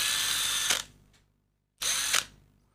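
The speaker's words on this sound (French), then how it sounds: "Je suis le seul mec à avoir une perceuse à moins de 10 cm de soi." A handheld power drill whirs at close range in two loud bursts, spinning up and cutting off abruptly with a silent pause between runs and no talking.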